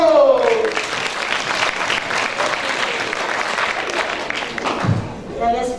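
A theatre audience at a comedy festival in Nicosia applauds, dense sustained clapping filling the whole stretch at a fairly loud level, with a voice briefly heard at the start and near the end.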